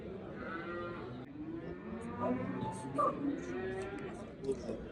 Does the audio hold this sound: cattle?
yes